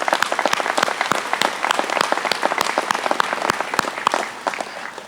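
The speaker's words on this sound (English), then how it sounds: "A quick round of applause for them" Audience at a co-op annual meeting gives a quick round of applause, many hands clapping loudly and steadily in a dense patter that fades slightly near the end.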